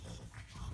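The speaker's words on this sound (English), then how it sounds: "You can hear my dogs growling at each other in the background" Pet dogs growling at each other during play, a brief low rumbling snarl with breathy panting, faint and in the background of a room.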